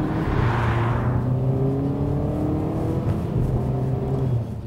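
A Volvo S60 Polestar with an eight-speed automatic gearbox accelerates through a fast right-hand sweeping bend, its engine note droning loud and close and climbing steadily in pitch as it pulls.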